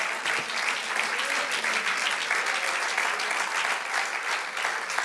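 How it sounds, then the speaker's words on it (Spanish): A church congregation applauds the Lord during a sermon, a dense, steady wash of clapping that carries on without a break from start to finish. "darle un aplauso al Señor"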